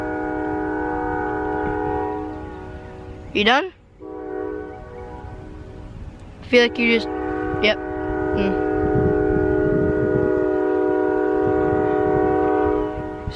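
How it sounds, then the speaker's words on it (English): A passing train sounds its horn in long, loud, steady blasts that run through most of the clip, with a short gap near the start and a few brief breaks. A nearby person talks briefly over it. "This train is definitely doing this on purpose."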